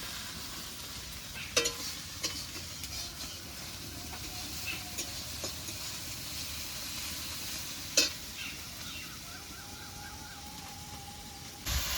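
Spice masala for an egg curry sautéed and stirred in a pan, a soft steady sizzle with occasional clacks of the spatula against the pan and a faint tone toward the end.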